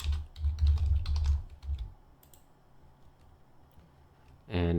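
Rapid clattering of typing on a computer keyboard in bursts during the first two seconds, then a quiet pause before a louder burst of sound at the end.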